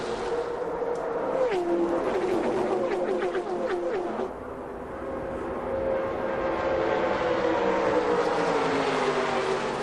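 Stock cars race side by side in the 2000 NASCAR Busch Series NAPA Auto Parts 300, with engines droning loudly and continuously and one engine note dropping in pitch as it passes by.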